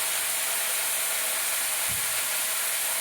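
Chopped leafy greens (saag) frying in a pan give a steady, dense hiss and sizzle, close and unbroken, with no talk over it.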